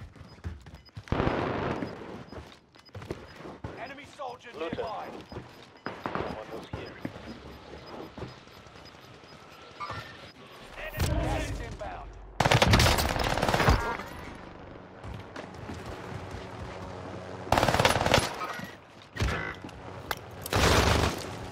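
Armaguerra 43 submachine gun fire in Warzone on Rebirth Island, several loud rapid bursts separated by quieter stretches of game noise, with a player talking over much of it.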